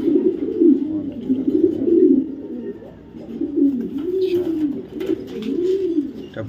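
A black checker pied racer hen pigeon coos in a steady run of soft, rolling low calls close by, with faint chirps and light background noise between them.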